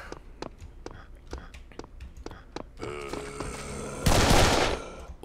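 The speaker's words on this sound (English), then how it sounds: "I don't think the shotgun is that good" Shotgun blasts from the Serious Sam video game ring out as a series of sharp, evenly spaced shots. A heavier, louder burst of noise follows them, and a voice is heard whispering softly in the background.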